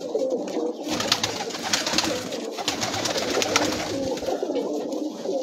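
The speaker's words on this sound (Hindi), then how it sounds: "दुबई वाला कबूतर है जी।" A Dubai pigeon on a rooftop coos repeatedly in soft throaty bursts, fairly close, with rustling and a faint background hum between calls.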